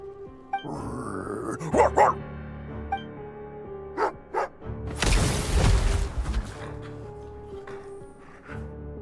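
Dog barking and growling in a snowy hunting setting, several sharp barks and low grunts scattered over a few seconds amid other bursts of noise.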